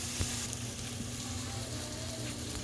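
Seasoning for ground turkey sloppy joes sizzles steadily in a pan, a continuous broadband frying hiss with a low hum underneath and no talking.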